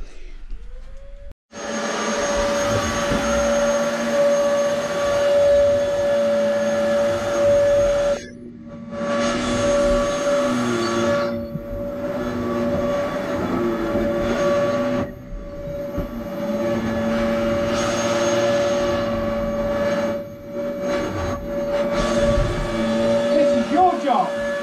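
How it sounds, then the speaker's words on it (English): A household vacuum cleaner runs loud and close with a steady droning whine, cutting out briefly a few times before starting up again, while a person talks over it. "I'm doing some hoovering"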